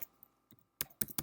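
A computer keyboard being typed on at a login screen gives a few sharp, close clicks in an uneven burst, with a soft tap before them.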